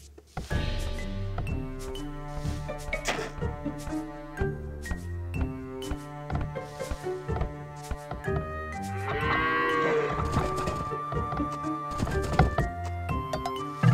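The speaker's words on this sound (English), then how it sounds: "You found some sheep." Sheep in Age of Empires II HD bleat among game sounds: tonal calls and dull thunks over steady music, with clustered bleats toward the middle, at moderate level and without talk.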